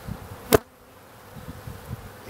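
Honey bees on a brood frame, faint low buzzing and scattered wingbeat hums with one sharp click near the start.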